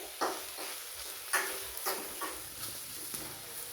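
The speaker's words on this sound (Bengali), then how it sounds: "এখন আমি টমেটোর আলুটা ভালোভাবে কষিয়ে নেব" Potatoes and tomatoes sautéing in a pan for a rohu fish curry, a soft sizzle with a few sharp stirring scrapes and clicks spaced through it, fairly quiet and close, no voices.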